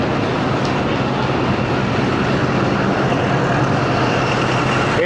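A Chinese-built 2000 horsepower ZCU 20 series diesel locomotive, number 6401, that hauled the down Tezgam from Rawalpindi to Lahore, gives a loud, steady rumble that fills the clip with continuous rail and engine noise.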